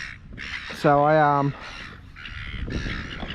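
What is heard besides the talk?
seagulls calling agitatedly near boats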